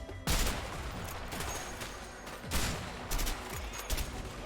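Gunfire and sniper rifle shots in a cooperative prison-escape action game, a dense fusillade of shots with several loud, sharp cracks standing out above the steady battle noise.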